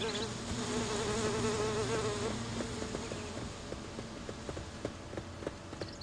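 Buzzing bees hum steadily at the start of a scene in the fantasy action game Sudeki on the original Xbox, then fade under a rhythmic series of clopping, footstep-like taps, with no one speaking.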